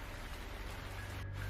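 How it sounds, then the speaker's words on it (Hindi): A steady, soft hiss of light rain, even and continuous with no voices. "बारिश अब धीमी पड़कर सिर्फ फुहार बन रह गई थी।"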